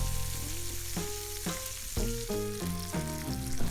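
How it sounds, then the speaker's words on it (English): Sausage, bacon and potatoes with fresh thyme sauteing in a skillet, a soft steady sizzle under faint tonal background sounds, quiet and without speech. "I'm just gonna let that saute for a few minutes"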